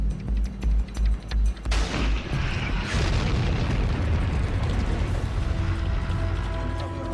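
Tank cannon fire and explosions in a desert battle at El Alamein, heavy booming blasts at first giving way to a dense, sustained roar of detonations and rumble, loud and close.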